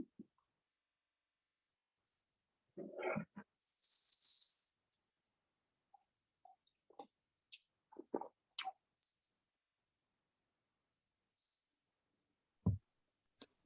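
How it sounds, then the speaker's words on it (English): Woodpeckers calling outdoors: a few short scattered calls and sharp chirps, fairly faint and spaced apart, with quiet gaps between them. "getting upset about the woodpeckers"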